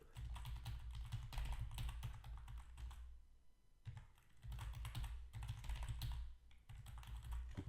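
Rapid clacking keystrokes on a computer keyboard as a MetaMask wallet password is entered, in three dense bursts separated by short pauses, close and clear with no speech.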